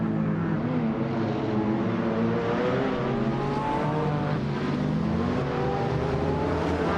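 A 2017 Orica 07 Acura race car at the start of a race on the Tsukuba short track, its engine revving in loud, sustained rising and falling whines, with several cars droning together at close range.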